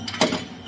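A chamfering tool cuts a weld-prep bevel on a steel part for a Harley Road King chopper, a short close grinding scrape with one sharp bite of metal contact.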